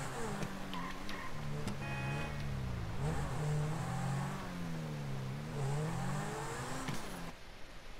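A Grotti Cheetah supercar in the video game GTA 5 drives along, its engine steadily revving and shifting up and down, loud and continuous, cutting off near the end.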